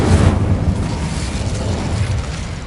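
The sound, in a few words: Incendio fire spell blast in video game Hogwarts Legacy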